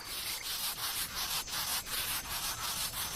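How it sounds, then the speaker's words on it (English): A longhorn beetle's dry, scratchy rasping stridulation repeats in quick, even strokes, like a file drawn back and forth, close and continuous without any voices. "Longhorn beetles rasp out loud warnings using a file on their backs"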